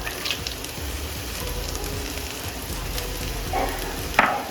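Small cut pieces of coconut go into chicken frying in a pan for a Tamil chicken fry, and a steady, close sizzling hiss carries on throughout with a couple of brief pops near the end.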